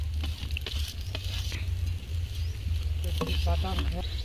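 Grated coconut sizzling and being stirred in a hot wok for a pitha filling, a steady close frying hiss with scraping stir strokes and a few light clatters near the end.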